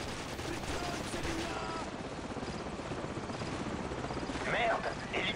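An enemy helicopter in the shooter Call of Duty 4: Modern Warfare, a steady rotor drone mixed with bursts of gunfire and battle noise, with voices talking over it.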